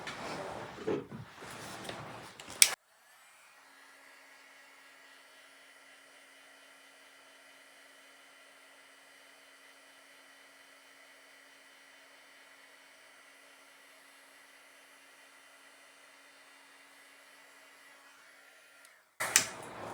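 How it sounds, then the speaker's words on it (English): A heat embossing tool blows hot air to melt and set embossing powder on a stamped cactus card, a steady whirring hum running about sixteen seconds alone, bracketed by brief handling noises at start and end. "So I'm just going to bring in my heat tool and then set it."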